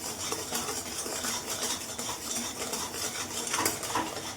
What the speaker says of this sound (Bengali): সমানে নাড়তে থাকতে হবে